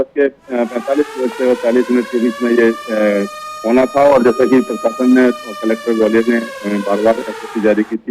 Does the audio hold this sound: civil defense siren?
yes